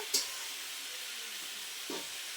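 Potatoes fry in a pan with a soft, steady sizzle and hiss, quiet and continuous with a couple of brief clinks.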